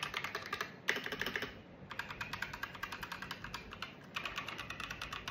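Typing on an Akko 3087 mechanical keyboard with blue switches gives fast, soft clicking keystrokes in quick bursts with short pauses between them. The sound is close but fairly quiet.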